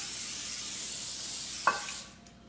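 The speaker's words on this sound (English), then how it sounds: "Non-stick spray." A continuous aerosol non-stick cooking spray hisses steadily for about two seconds onto a baking pan, with a small click near the end before it cuts off.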